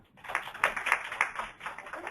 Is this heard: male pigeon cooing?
no